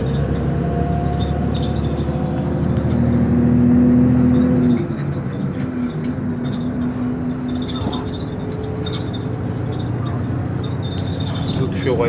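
A bus driving on a highway in China gives a steady interior drone of engine and road noise, with a rising engine tone that shifts midway and then settles back into an even rumble.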